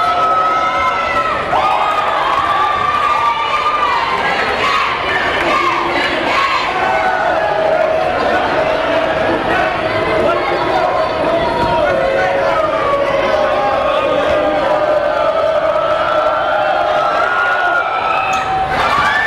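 Basketball crowd at a Plattsburgh–Peru boys' game roaring and shouting steadily to rattle a free-throw shooter, a dense, loud wall of voices that holds throughout.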